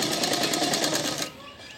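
Sewing machine stitching a garment seam, a fast rattling run for about a second that cuts off abruptly, leaving quiet room noise.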